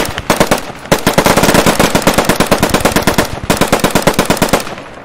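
Loud, rapid machine-gun fire from the Post Scriptum World War II shooter, a near-continuous stream of sharp shots with brief pauses, dominating the scene.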